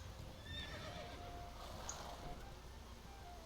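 Roach the horse in The Witcher 3 gallops along with a faint whinny, the hoofbeats soft and blended into a steady wash of game ambience at low level.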